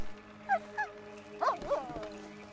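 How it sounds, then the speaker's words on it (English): A dog attacks in the video game Red Dead Redemption II, giving a couple of short barks followed by a louder snarling burst of yelps, close and clear. "but I got attacked by a dog"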